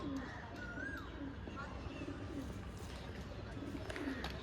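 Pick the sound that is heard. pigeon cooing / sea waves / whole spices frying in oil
pigeon cooing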